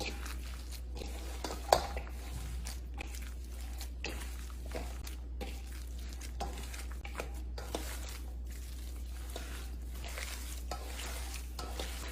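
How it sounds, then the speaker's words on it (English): Meat being mixed together with other ingredients and ketchup in a bowl, heard as soft, steady squishing and scraping strokes up close over a constant low hum. "You just wanna mix all that in together."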